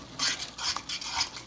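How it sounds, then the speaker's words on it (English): Shrimp creole being stirred in a pan after chili powder goes in, giving a few soft scraping and clinking strokes of a utensil against the pan, close and fairly quiet, with no talking. "get that in, get that stirred around real quick"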